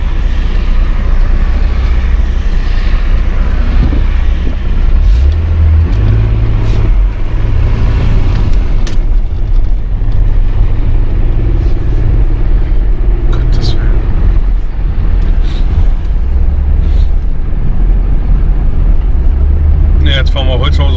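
A car drives down Holzhauser Straße with a steady, loud engine rumble and road noise throughout, under heavy in-cabin talk.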